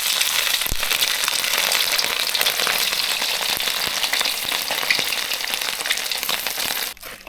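Oil frying steadily while fish larb is cooked: a loud, dense, continuous sizzle with crackling pops that goes on throughout and cuts off sharply near the end, with no voices.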